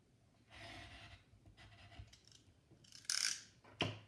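Scissors snipping through paper for a folded scrapbook card, a few quiet rasping cuts and then two sharper, louder snips near the end, close up with no talking.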